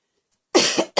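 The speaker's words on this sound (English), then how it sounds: "I do wonder about when I cough." A single close, loud cough from a man after a moment of silence, a sharp broadband burst followed by a second short one right after.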